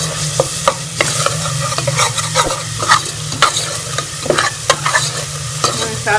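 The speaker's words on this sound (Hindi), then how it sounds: "मसाले डाल के मैं इसको अच्छी तरह से मसाले को भून लूँगी।" Spices fry and get stirred for potta kaleji, a loud continuous sizzle broken by frequent rhythmic scrapes of a spoon against the pan, with no talking.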